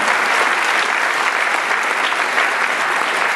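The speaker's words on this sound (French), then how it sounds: "je vous invite à applaudir aussi" Dense, steady applause from a large audience fills the hall at a film festival opening ceremony, continuous and loud throughout with no voices standing out.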